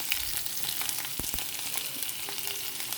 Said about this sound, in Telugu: దొండకాయలు మాడిపోకుండా మధ్య మధ్యలో ఇలాగ కలుపుకుంటూ ఉంటే సమానంగా వేగుతాయి.